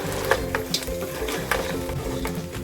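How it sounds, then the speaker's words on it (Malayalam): Crab masala for Mangalorean-style crab sukka being stirred in a pan, with a steady sizzle under repeated scraping and clinking strokes of the spoon against the pan, close and fairly loud. "നന്നായിട്ട് ഇളക്കി കൊടുക്കാം. നന്നായിട്ടൊന്ന് മിക്സ് ചെയ്യാം കേട്ടോ."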